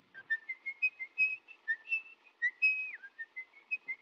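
A man whistles a melody from the film M, a string of short clear notes with one long sliding tone, steady and fairly close.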